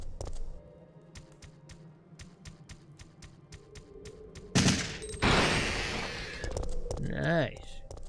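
Gunfire in the survival-horror game Resident Evil 3: Nemesis, a loud burst of shots after a stretch of quiet ticking, followed by further noise and a brief voice.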